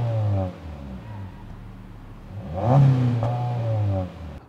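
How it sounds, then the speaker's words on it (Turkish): A 2022 Honda Civic engine revving with exhaust sound, a steady idle hum rising into a loud blip of throttle with a sharp second rev, then settling back to a sustained drone. "Sırada bir de bu motoru gazlayıp bir de egzoz sesini dinleyelim."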